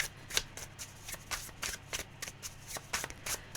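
A tarot deck is shuffled during a card reading, making a close, crisp series of riffling bursts repeated roughly every few tenths of a second throughout, with no voice.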